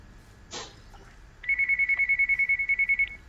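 A telephone ringtone trills in a rapid, evenly pulsed run of about a dozen beeps, fairly loud and close, after a brief scuff and otherwise quiet room.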